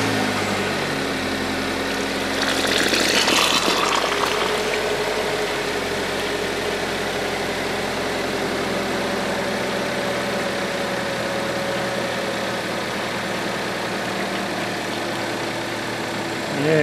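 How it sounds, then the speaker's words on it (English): A 2014 Chevrolet Equinox engine idles steadily during a transmission flush, a continuous low rumble up close with a brief rise in noise early on. "we're going to start it up and we're going to continue to flush"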